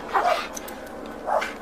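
Two sharp dog barks about a second apart, close and fairly loud, set against a steady low background hum during a police encounter after shots were fired at officers.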